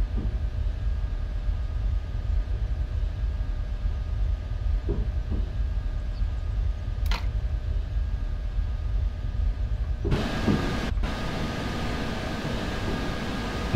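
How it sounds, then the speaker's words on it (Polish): An EN62 electric train pulls into a platform in the MaSzyna train simulator, giving a steady low rumble of rail noise under a constant hiss. A few brief clicks and knocks are heard, and a louder section comes near the end. "Pociąg jeździ na peron."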